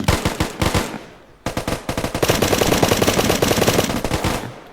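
Rapid automatic gunfire from the survival video game Unturned, loud bursts of close shots with a brief pause, then a sustained rattling stream that fades out at the end; no talking.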